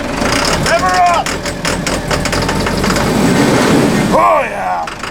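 A repaired RV engine runs with a low, steady rumble beneath excited shouting and cheering voices that rise loudly over it throughout.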